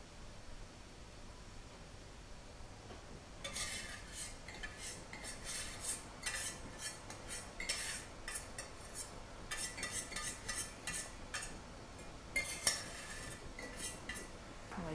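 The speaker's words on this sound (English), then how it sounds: "now we can combine it with our dry mixture" A utensil stirs melted chocolate into a dry mixture in a bowl, making faint scraping and clinking sounds in irregular bursts against low background hiss.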